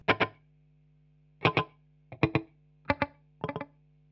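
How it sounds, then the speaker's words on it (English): An electric guitar plays short, sharp plucked notes through a Boss DD7 digital delay set to a single short slapback repeat, in five quick clusters separated by brief gaps over a steady low hum. "I use my Boss DD7 Digital Delay. This one is set to a short slapback,"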